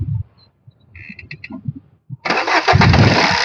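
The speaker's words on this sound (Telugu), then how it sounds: "బండి అయితే సింగిల్ సెల్ఫ్ లో స్టార్ట్ అవుతుందండి" A 2016 Tata Zest XMS diesel car cranks briefly and fires on the first try, then settles into a loud, steady diesel idle after a quiet pause with faint clicks.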